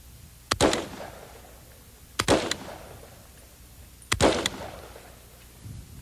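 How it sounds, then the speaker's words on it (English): Three sharp single shots from a semi-automatic hunting rifle, evenly spaced about two seconds apart, each a loud crack with a short echoing decay, fired outdoors with nothing else audible between them. "This too is a hunting rifle. Again, one pull of the trigger, one round."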